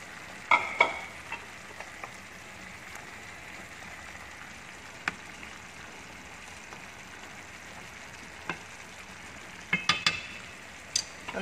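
Onion going into a pot of simmering lamb with quinces for a Moroccan dish: a steady soft sizzle and frying hiss, with a few sharp clinks and scrapes of stirring near the start and end. No one talks.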